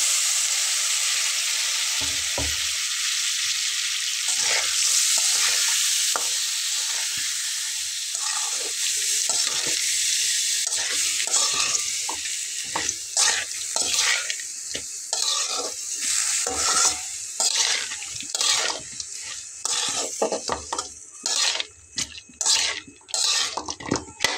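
Khesari dal stirred and fried in a pan, an even sizzle at first giving way to repeated rhythmic scraping and stirring strokes that grow busier toward the end, no talk.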